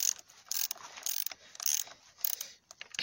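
Quick bursts of ratchet clicking as a shock absorber spring is tightened on a BMW E46, close and fairly quiet, short strokes separated by brief pauses.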